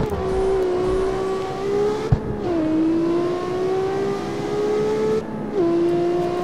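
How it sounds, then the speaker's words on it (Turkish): Nissan GT-R R35 race car engine in the Carx Street video game, accelerating hard through two gear shifts with a rising, whining tone, loud and close, with no talking. "bu arabaya bir kalkış yakışır"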